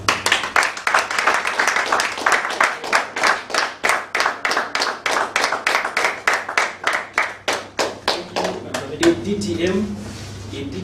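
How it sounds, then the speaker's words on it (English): A room full of people claps, a dense burst of applause that thins into rhythmic, evenly spaced claps before fading away. "I really want you to give him a round of applause."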